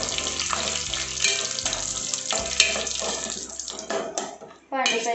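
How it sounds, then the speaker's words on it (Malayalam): Cashew nuts frying in ghee in a pan, giving a steady broadband sizzle and hiss that fluctuates as the nuts are moved, briefly dropping away near the end before the sizzling resumes strongly. "എന്താ കാഷ്യൂ നട്സ് ഇട്ടിട്ട് വറുത്തെടുക്കാം"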